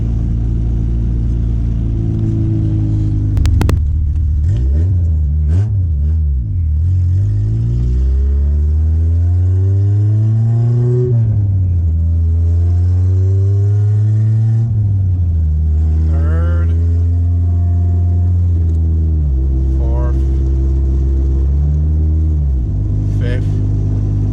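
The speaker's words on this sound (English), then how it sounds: "It's driving finally, the EM1." A Honda Civic EM1 with a B-series manual transmission accelerates through its gears, the engine pitch rising and dropping with each shift, loud and close, with a voice speaking over it at times.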